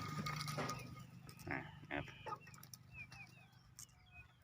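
A four-year-old flock of laying hens on a backyard farm, soft clucks and bird calls scattered across a quiet, close scene with a few louder bursts near the start.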